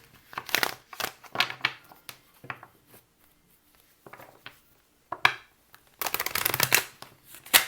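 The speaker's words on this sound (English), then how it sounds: "let's just free shuffle." Tarot cards being shuffled in several quick riffling bursts with short pauses between, close and crisp, ending in a longer, denser flurry.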